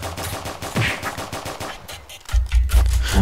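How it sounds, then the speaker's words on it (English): Rapid bursts of gunfire in Roblox Prison Life, a quick run of close, sharp shots followed by a louder, heavier volley near the end. "I have to shoot you"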